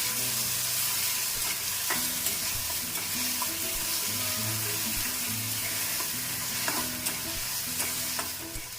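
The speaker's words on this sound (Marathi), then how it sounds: "त्यामध्ये आपण आता ही पेस्ट केलेली टाकूया मिक्स करूया" A ground spice paste goes into reddish fried cumin for restaurant-style methi matar malai and is stirred. Steady close sizzling and frying runs under rhythmic spatula scrapes against the pan for several seconds, with no voices.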